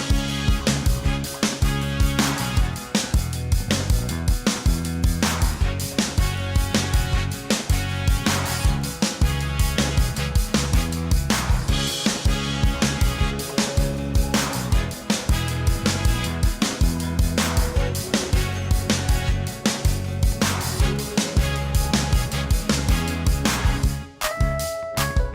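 Bespoke film score chorus with a driving bass line and acoustic guitar, playing continuously and loud throughout with dense full instrumentation and no talk.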